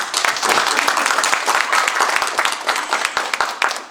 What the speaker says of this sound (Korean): 우리 박수 한번 해주십시다